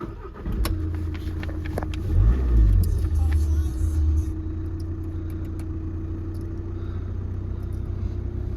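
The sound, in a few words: Audi Q3 2.0 TDI diesel engine started and running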